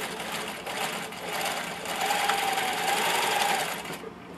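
A sewing machine stitches through elastic on a bathing suit, giving a continuous rapid mechanical whir and clatter close by for several seconds before stopping, with no talking.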